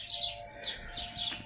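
Evening birdsong outdoors, with repeated high chirping calls at a moderate distance over a steady insect-like hum, continuing throughout with no talking.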